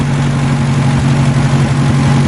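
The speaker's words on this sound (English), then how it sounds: "It is running, it is idling perfect." Car engine idling in perfect running condition, a steady, even low rumble heard up close and loud, with no voices over it.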